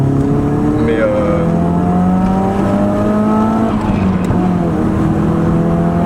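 A Nissan S13 revs hard as the throttle opens, its loud engine note rising steadily across several seconds, dipping briefly, then climbing again, heard from inside the car with voices talking over it.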